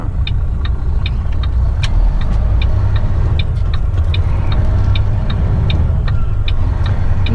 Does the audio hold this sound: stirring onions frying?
no